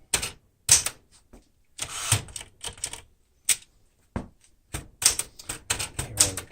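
A 1973 Smith-Corona Galaxie Twelve manual typewriter, pica typeface, typed on with crisp irregular clacks of the keys and typebars striking the platen, arriving in quick bursts separated by brief pauses, close and loud.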